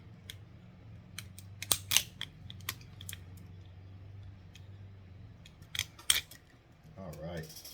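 Metal bolts being worked loose from a nickel manganese cobalt lithium battery bank, with several sharp clicks and ratcheting snaps scattered over a low steady hum, a denser burst of clatter near the end.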